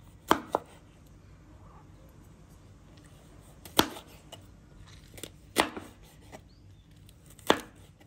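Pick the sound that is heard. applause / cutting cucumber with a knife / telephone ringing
cutting cucumber with a knife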